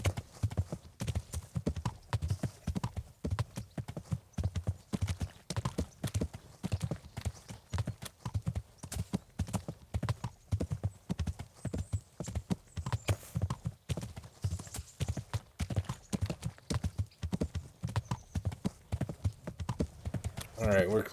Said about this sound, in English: Come on, horse, run faster.